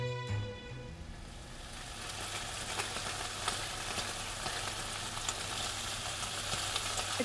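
Chicken frying in hot oil, a dense, steady hiss of crackling sizzle like falling rain, beginning with a brief tonal sound and then continuing evenly at close range with no voices.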